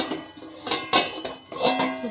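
A new kadai cooking pan handled by its grip, producing several distinct metallic clanks and knocks at close range, spaced irregularly over a couple of seconds with no talk.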